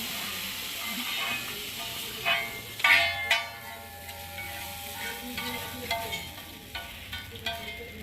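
Spiced chicken and vegetables frying in a pan for an egg chicken roll, a steady close sizzle and hiss with occasional stirring scrapes and clinks throughout.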